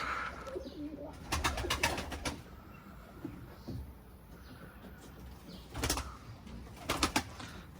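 Pigeons coo around a loft on a hot summer day, soft repeated cooing joined by bursts of wing flapping and scraping, with no talk.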